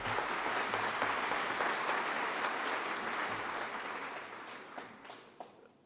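A crowd at a French political rally applauding steadily, dense clapping that stays strong and then slowly thins and fades toward the end, with a few scattered claps left.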